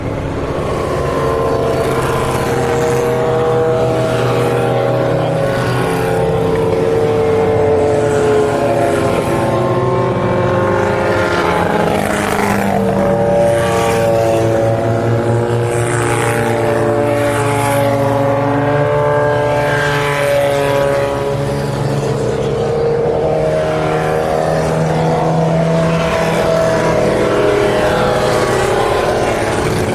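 Classic race cars, a Mercedes and a Martini Lancia, run slowly behind a safety car, their engines a continuous mid-range drone with shifting harmonics as they pass, steady and fairly loud throughout with no talk.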